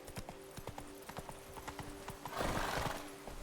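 Geralt's horse Roach gallops in The Witcher 3, rapid rhythmic hoofbeats pounding steadily, joined near the end by a louder rushing swell, with no voice over them.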